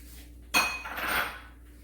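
A spoon clinks against a mixing bowl once as oil is stirred into cornmeal and flour, followed by a soft scraping swirl that fades out, close and alone.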